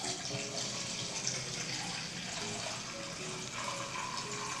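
Dark espresso is poured from a container into a dish for tiramisu, making a steady liquid splashing and gushing stream close by for several seconds with no talking.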